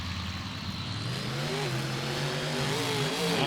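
Custom racing trucks launch off the start line, a steady engine drone building into a revving roar that climbs in pitch as they pull away, loud and continuous.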